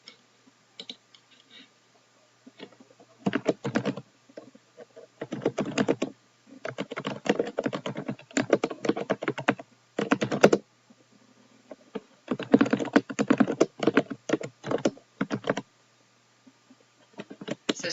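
Bursts of rapid clicking from a computer keyboard come in clusters separated by short pauses, close up and fairly quiet, with no talking.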